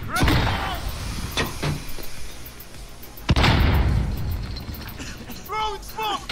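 A grenade in Call of Duty Warzone bursts with a sudden heavy boom and a rumbling tail. Scattered shots and impacts come before it, and a voice speaks briefly.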